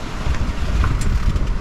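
Strong wind around a sailboat at sea off New Zealand, gusting near 25 knots, roars as a constant low buffeting rush against the microphone with water wash beneath, close and loud.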